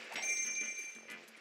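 Bells ring in Paper Mario 64, a bright metallic chime with sustained ringing tones over a soft, busy game background, lasting just over a second at moderate volume.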